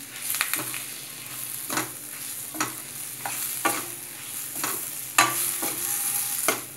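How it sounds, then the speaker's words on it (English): A spoon stirs Hyderabadi-style mutton curry masala in a pan, sharp scraping strokes repeating irregularly over a soft sizzle, close up with no talking. "Mix until the blend is properly blended into the masala."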